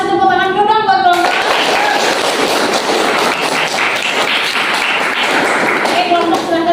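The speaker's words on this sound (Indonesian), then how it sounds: "Kita kasih tepuk tangan dulu dong buat kelompok." A classroom audience gives a student group a steady burst of dense clapping after their presentation, loud and sustained for several seconds, following a brief stretch of voice at the start.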